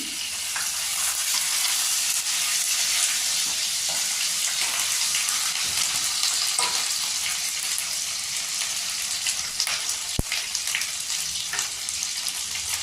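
Ginger paste frying in butter gives a continuous, bright sizzle with occasional stirring scrapes and small pops, steady and close throughout with no talking.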